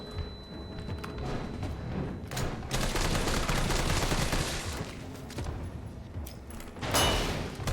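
Sustained bursts of gunfire as a full magazine is emptied into an enemy in Resident Evil 3, rapid shots with thumping impacts, loudest in the middle and again near the end.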